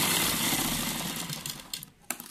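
A sewing machine runs steadily while stitching the side of a sleeve cuff, a continuous whirring buzz that thins and breaks into short bursts toward the end.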